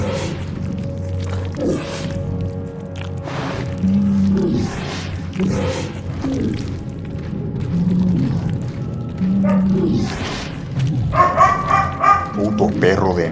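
Dog barking in the video game Dead Space 2, repeated barks mixed with game sound effects and music while someone talks over it.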